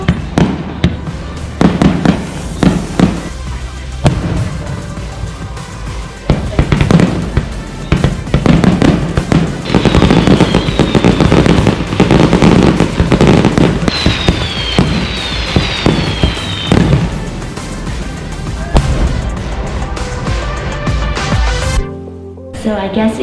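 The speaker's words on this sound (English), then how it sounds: "I found the fireworks ship that goes out about 8:30 to watch the fireworks that come on every summer at 8:45 p.m." A summer fireworks display over Lake Toya in Hokkaido, Japan, fills the air with continuous loud bangs, crackles and whistling shells, dense and booming throughout, with voices mixed in among the blasts.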